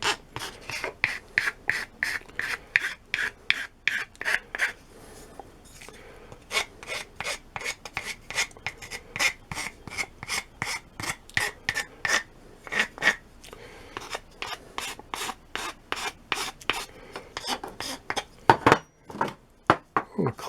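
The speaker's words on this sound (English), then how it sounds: "I'm just going to go over this, round off the corners." A piece of wood being filed with a medium-coarse file to round off its corners, rapid rhythmic rasping strokes in close, evenly spaced bursts with short pauses, clear and fairly loud with no talking.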